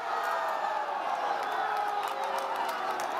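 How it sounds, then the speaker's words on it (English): A crowd at an outdoor event in California cheering after a surveillance drone is knocked out of the sky, a dense, sustained roar of whoops and applause. "just listen to the cheers as the crowd downed a drone they thought was involved in surveillance"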